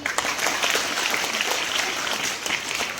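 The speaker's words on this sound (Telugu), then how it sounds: "క్లాప్స్ కొట్టండి" Crowd applauding at an outdoor prize-giving ceremony for school races near a government office, a steady dense patter of clapping held at even loudness for about three seconds with no talk over it.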